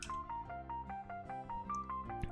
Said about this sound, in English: There is a phone call.